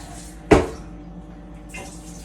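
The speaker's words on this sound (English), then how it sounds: "Now I'm gonna add my noodles. So, oh, let me drain this water first." Water is poured off a pot of noodles into a sink: one sharp splash, then a quiet gap before a softer second rush of draining water.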